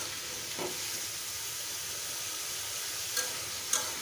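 Spice paste with fresh vegetable stems, for a pomfret fish curry, sizzles in a pan as a faint, continuous hiss, with two or three soft spatula scrapes near the end and no talking.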